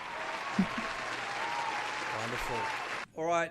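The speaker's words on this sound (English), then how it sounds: "Let's have a round of applause for Dr." A podcast audience gives a short round of applause for Dr. Robin during a Jeopardy-style game, steady clapping running under a host's talk before the clapping cuts off and a voice carries on alone.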